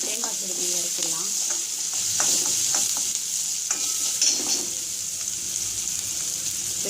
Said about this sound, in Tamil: சேர்த்து பெரிய வெங்காயம் சேர்த்து காஞ்ச மிளகாய், கடுகு உளுத்தம்பருப்பு தாளிச்சாச்சு.